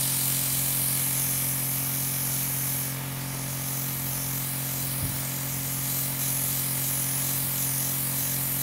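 Continuous hiss and steady hum of a makeup airbrush gun and its compressor from a Luminessair everyday makeup airbrushing kit, running unbroken throughout with a faint click midway.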